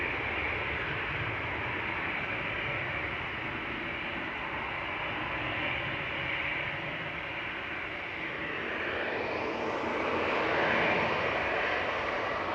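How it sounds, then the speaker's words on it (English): An Airbus A380 lands on a wet runway with thrust reversers deployed, a broad, steady jet roar heard from a distance that swells louder toward the end. "Everybody's looking forward to seeing the A380 thrust reversers in action on the wet"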